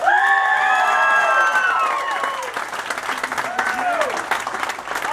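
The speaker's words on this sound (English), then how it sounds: "Give this dude a round of applause." An audience at a brigade appreciation event bursts into loud applause with cheering and whoops, voices rising in shouts over steady clapping before tapering to scattered cheers and chatter.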